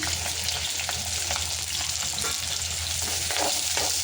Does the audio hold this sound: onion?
yes